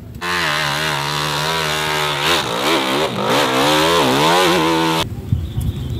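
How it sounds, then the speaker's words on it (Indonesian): A toy motocross motorcycle's buzzing electric engine sound revs steadily for about five seconds, wavering up and down in pitch, before stopping abruptly. "Yang ini ada motor cross."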